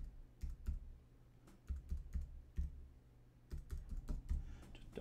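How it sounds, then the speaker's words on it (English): Fingers tap out a credit card number on a computer keyboard, quick clusters of crisp key clicks separated by short pauses, close and fairly quiet, with no talking. "put in your credit card number"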